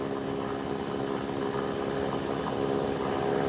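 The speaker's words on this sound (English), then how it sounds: "Whilst at this taxiway waiting is Kicks Express Beechcraft 1900 waiting to take position on the" A Kicks Express Beechcraft 1900 turboprop sits waiting on an airport taxiway, its engines giving a steady, loud, continuous drone with a constant hum that holds level throughout.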